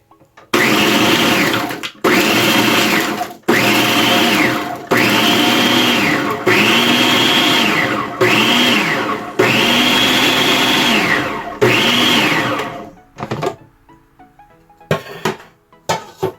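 An electric blender grinds preserved lemon in repeated loud bursts of roughly a second each, the motor revving up and cutting off between pulses, then a few faint clinks as it stops.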